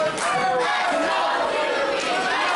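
A wrestling crowd at a PPW PowerSlam TV event cheers and chants to rally behind a wrestler, a steady roar of many voices with rising shouts that stays loud throughout.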